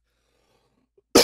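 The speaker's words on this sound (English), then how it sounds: "Maybe that'll curb that cough for a second." A man at a microphone during a Minecraft gaming session breaks near-total silence with one abrupt, loud, close cough right at the end.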